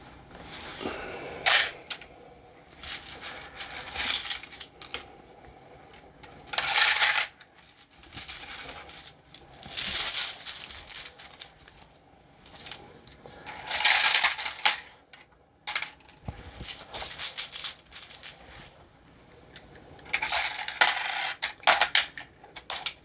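Pre-decimal British penny coins drop in repeated bursts, a loud metallic clatter and jingle of many coins pouring and settling. The bursts come at irregular intervals with quieter rattling between them, and no voice is heard.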